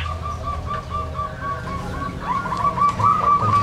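Perkutut zebra dove, a two-month-old caged bird, cooing in steady repeated whistled phrases at close range, clear over a low background hum with no talking.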